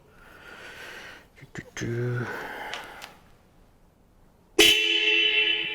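Several short, harsh blasts from a newly fitted cafe racer motorcycle horn sound close by amid fumbling noises, then one loud sustained honk rings out to the end.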